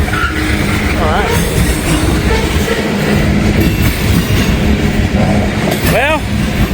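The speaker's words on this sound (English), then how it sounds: "All these trains are running through." Freight train carrying full ethanol loads rolls steadily past a work zone on a windy day, loud rumbling wagons with occasional wheel squeals and a person talking over the noise.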